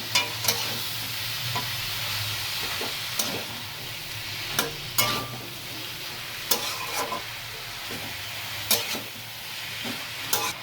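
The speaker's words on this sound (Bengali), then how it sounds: "এবার বাঁধাকপির সাথে মশলাটা দেখো খুব ভালো করে মিশিয়ে নিচ্ছি।" Cabbage being stirred together with spice masala in a pan for a Bengali fish-head cabbage ghonto, with a soft steady sizzle under repeated sharp scrapes and taps of the spoon against the pan, no voices.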